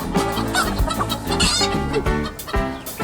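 Chickens on an egg farm cluck in a busy, overlapping chorus. Several birds are close and loud, with short repeated clucks and occasional longer calls, and no one speaks.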